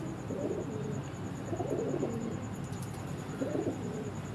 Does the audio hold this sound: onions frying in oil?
no